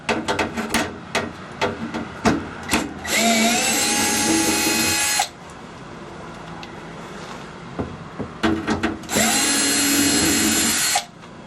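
A power drill backs out quarter-inch drive screws from a board on a Super Chexx coin-op hockey game, with two loud, sustained whirring bursts separated by tapping and handling clatter, all close-up.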